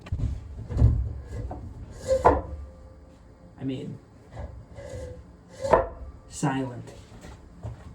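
Iron and rubber grip weight plates handled on a barbell, giving several loud knocks and clattering thuds spaced across the span, with a voice speaking between them.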